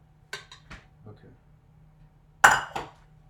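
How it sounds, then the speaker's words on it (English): A spoon clinks and scrapes against a bowl while an oat cereal mixture is stirred, a few short knocks early, then a louder clatter of strikes later in an otherwise quiet kitchen. "So now I'm going to start mixing."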